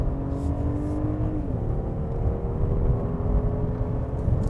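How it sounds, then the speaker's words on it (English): Twin-turbocharged V6 in a Genesis G90 sedan pulling smoothly under acceleration, a steady low engine drone with a rising harmonic whine that holds close and even throughout, with no talk. "Although Genesis G90 is a much bigger and heavier car, this engine has no problem pulling this giant smoothly and quickly."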